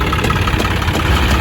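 A John Deere 5405 harvester engine fitted with an added turbo runs near the microphone, a loud, steady low throb that keeps going without a break through the whole short stretch.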